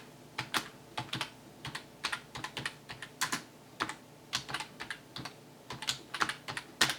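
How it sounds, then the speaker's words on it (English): Rapid clicking of computer keys as a plant name is typed, in irregular bursts of close, crisp taps with short pauses between, alone with no voices. "All I do is type the plant name in."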